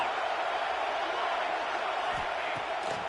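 Stadium crowd noise from a football video game on a third down, a steady loud roar of cheering filling the whole stretch without a break.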